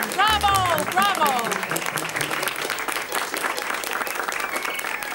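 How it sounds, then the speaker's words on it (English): Applause from a small group in a telenovela scene, steady dense clapping that follows a brief burst of excited voices at the start and carries on for several seconds. "A round of applause, everyone."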